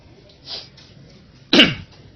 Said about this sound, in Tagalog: Sorry, medyo may ubo.